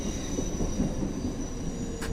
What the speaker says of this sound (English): Train approaching.